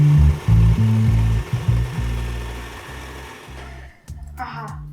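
An electric mixer whips butter and sugar, whirring loudly in choppy bursts with rising and falling pitch, then quieting toward the end as a voice briefly comes in.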